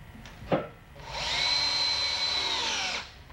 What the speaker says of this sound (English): screwing perpendicular to the belt so that the screws align with the lugs on the back side